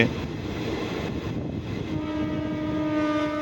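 Karaikal–Thanjavur passenger train pulling away from Kuthur station after a one-minute stop, a near, steady rumble of carriages with a horn sounding in the second half.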